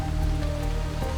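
Steady rain falls on a surface around a toy train set with a paper dragon tucked in a cave, a continuous close patter with no voices.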